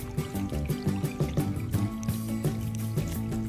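Irrigation water pours into a field plot on a farm, a steady, close gushing and trickling with a droning hum running underneath.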